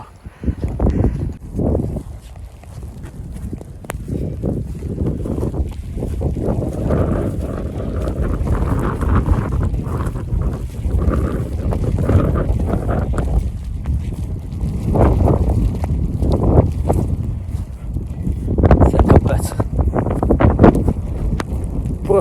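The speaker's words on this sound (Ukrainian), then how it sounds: "Зносить сніг. Це вітер." Strong winter wind blowing snow roars and buffets the microphone in loud, gusting waves, with heavy rumbling and occasional harsher blasts, no voices.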